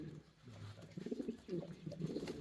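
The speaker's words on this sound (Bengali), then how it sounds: "এই যে এগুলো কবুতর ভাই টাকা দিয়ে মিলা মুশকিল আছে" Pigeons coo on a house-pigeon farm in a close, steady series of soft throaty calls that swell in several bursts, with no voices over them.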